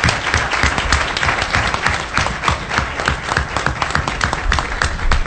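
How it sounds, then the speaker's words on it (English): A studio audience at a sickle cell disease talk show gives a full round of applause: dense, even clapping from many hands that holds steady and close for several seconds. "So please give them another round of applause."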